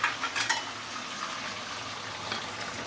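Fish shallow-frying in a pan at home until golden brown, giving a steady close sizzle with a few sharper spatters and stirring scrapes near the start, no voices.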